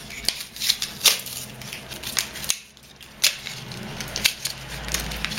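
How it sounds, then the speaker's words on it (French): Packaging of a Maybelline mousse-texture cosmetic being unwrapped by hand, close crinkling and sharp tearing rustles in irregular bursts, with no talking. "Je vais le déballer."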